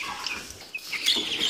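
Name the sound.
Ross 308 broiler chicks clucking in brooder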